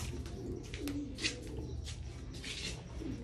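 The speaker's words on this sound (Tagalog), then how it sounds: "nagtatrabaho na rito sa ating mga alaga natin, mga kalapate." Pet pigeons in a coop, breeders on the first floor, giving soft low cooing against a steady background hum, with a few brief rustles and higher chirps.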